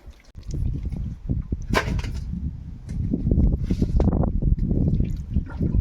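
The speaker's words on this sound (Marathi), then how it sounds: "पहिलं तर पाणी काढून घ्या" Water being scooped and bailed out of a small forest stream pool while catching fish, close, continuous splashing, sloshing and pouring with some bursts of spray, and a few faint voices.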